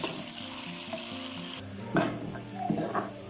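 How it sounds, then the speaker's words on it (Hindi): Onions browning in hot ghee, with a continuous bright sizzle and a couple of louder spatters or stirring clinks near the end, heard up close without talk. "घी में हम प्याज को ब्राउन होने के लिए डाल देते हैं।"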